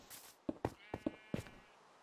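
Several short, quiet sheep bleats in Minecraft in quick succession, soft and close, with brief gaps between calls.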